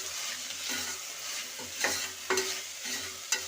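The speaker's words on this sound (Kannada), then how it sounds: "ಈ ರೀತಿ ಎಣ್ಣೆನಲ್ಲೇ ಫ್ರೈ ಆಗಬೇಕು" Spices and salt frying in oil for green gram sambar, a close steady sizzle broken by several scraping stirs of a spoon against the pan, with no voices.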